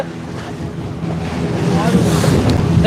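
Two outboard engines on a fishing boat drone steadily beneath wind buffeting the microphone and the wash of open sea, growing slightly louder over the few seconds.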